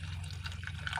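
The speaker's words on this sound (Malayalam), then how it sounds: "ഇനി വെള്ളം ഒഴിച്ച് പാകത്തിന് വെള്ളം ഒഴിച്ച്" Water poured into a pot of potato curry, a brief, steady liquid wash over a low background hum.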